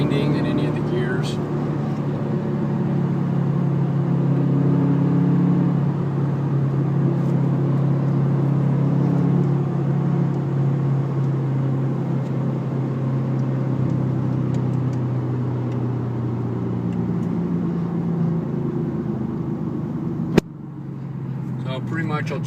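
A 2012 Ford Mustang GT 5.0 V8 cruises on a highway, its steady low engine drone and road rumble continuous from inside the cabin, with someone talking over it, before a brief click and a quieter stretch at the end.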